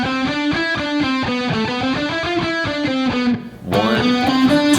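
Fast distorted electric guitar riff in repeated picked groupings, with a quick sextuplet speed burst landing on the third beat, a brief dip near the end before the riff resumes, loud and close.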